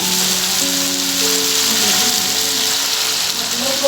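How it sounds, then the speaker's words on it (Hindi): Kaleji (goat liver) fries in a pan with tomatoes over a low flame, a steady hiss of sizzling oil throughout while tonal background music plays over it. "और तब तक मैं इसको भून लेता हूँ"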